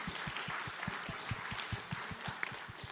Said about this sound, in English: Y'all can clap, give it up,